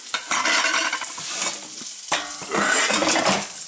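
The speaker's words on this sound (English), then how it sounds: "So I'm gonna flip these over" Sausage patties sizzle loudly in a skillet while a utensil scrapes and clanks against the pan during flipping, close and continuous with two busy bursts of scraping.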